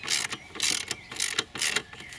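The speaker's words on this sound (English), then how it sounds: "We then need another socket. This case it's a 10mm one, so just hold the bolt underneath and just gently tighten this up." A socket wrench ratchets in short repeated bursts, about four strokes, while a 10mm bolt on a solar panel mount is tightened. The clicking is crisp and close.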